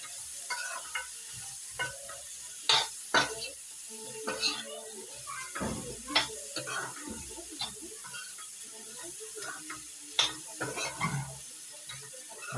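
Tinde (Indian round gourd) curry with coriander being stirred and mixed in a hot pan on the stove, with scraping utensil strokes and a soft sizzle, irregular and close, with faint background noise.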